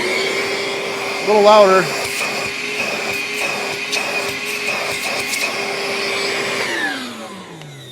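A Ryobi bucket-top wet/dry vacuum runs steadily in vacuum mode with a loud whirring hum that winds down near the end, while a person briefly speaks over it.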